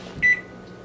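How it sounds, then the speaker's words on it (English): A kitchen timer gives one short, clear electronic beep as it is stopped, heard close and alone against a quiet room. "I'll stop the timer."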